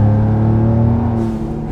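2019 Ford F-150 Raptor fitted with a Corsa Xtreme exhaust and no resonators idles and revs close up, a loud, deep, rumbling drone that eases off slightly toward the end.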